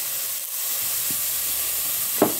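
Crushed gooseberry and asafoetida powder sautéing in hot oil for a soup base give a steady broadband sizzle throughout, with a couple of brief utensil scrapes, the second louder near the end.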